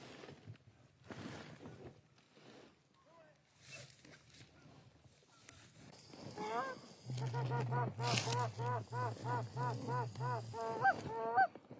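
Geese honking during a goose hunt, first scattered calls and quiet talk nearby, then a dense, loud run of rhythmic honks from a flock close by, with voices mixed in.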